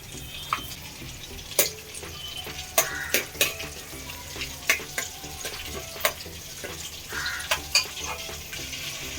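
Cumin seeds frying in butter for pav bhaji, a low sizzle broken by repeated sharp clinks and scrapes of a spoon against the pan at an uneven rhythm, close by with no voices.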